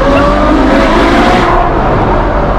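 An 800 hp Ferrari sports car driving hard and braking, a loud, close, continuous engine roar with tire noise, holding steady before easing slightly, no talking.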